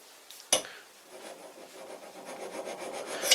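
A hand scraper works across a cast iron surface in close, repeated rasping strokes, with a sharp click at the start and another near the end.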